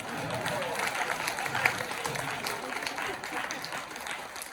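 Quiet applause from a church congregation praising the Lord, a soft, distant patter of clapping running throughout, with faint voices mixed in.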